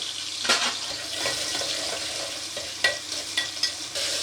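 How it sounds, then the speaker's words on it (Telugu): Onions frying in hot oil in a pan, a steady crackling sizzle with occasional sharper pops and stirring scrapes, close by and without talk. "ఆయిల్ వేడెక్కిన తర్వాత ఆనియన్స్ వేసుకొని ఫ్రై చేసుకోవాలి"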